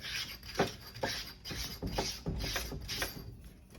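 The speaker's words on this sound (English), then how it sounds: "Loosen that nut up." Ratcheting wrench loosening a nut on a custom Axis rear shock during service, a series of quiet mechanical clicks and rubs in uneven bursts, close up with no talking.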